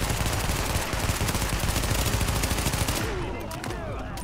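SMG fire in the video game The Division sounds as dense, rapid bursts of gunshots that stay loud and continuous for about three seconds. The shooting then drops to scattered, quieter shots and a background rumble.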